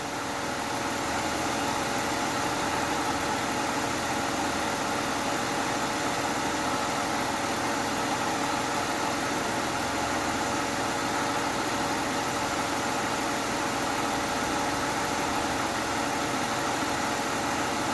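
A BMW E39 engine with a high fuel consumption fault idles steadily, giving a continuous even drone with no talk over it.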